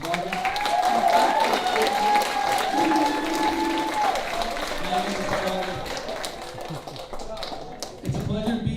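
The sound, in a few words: audience applause at a school ceremony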